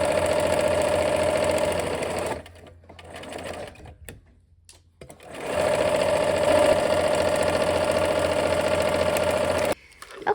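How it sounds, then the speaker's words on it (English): Sewing machine stitching quilt seams, running in a steady fast mechanical whir with rhythmic needle clatter, stopping briefly partway through, then resuming for a long close run before cutting off. "nest those seams and let's go sew"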